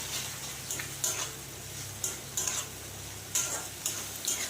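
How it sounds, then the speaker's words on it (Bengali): A spice paste of tomato, cumin and Kashmiri chilli powder with a little water sizzles in a pan, with a steady frying hiss and regular scraping strokes of a spoon stirring it. "জিরের গুঁড়ো, তার সাথে দিয়ে দেবো হচ্ছে কাশ্মীরি লঙ্কার গুঁড়ো, দিয়ে সামান্য জল দিয়ে মশলাটাকে এবার ভালো করে কষিয়ে নেব।"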